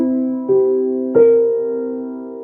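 A dominant chord strummed twice on guitar in a soulful lesson; the two attacks come about a second apart, each ringing on and fading slowly, with nothing else heard.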